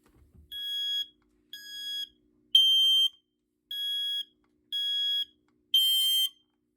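A BRK First Alert SMI105-AC smoke alarm with a faulty horn sounds six loud, close electronic beeps, each about half a second long and evenly spaced, with no talking.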